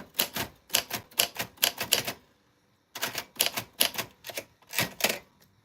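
Keys strike on a vintage typewriter in quick, sharp clacking bursts, close and loud, with a brief pause partway through before the typing resumes.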